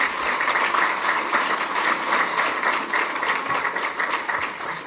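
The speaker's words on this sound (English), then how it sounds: "You can clap for that." An audience claps steadily through the whole stretch, a dense, even patter of many hands at moderate loudness, at a speech about a Black woman leader; no one talks over it.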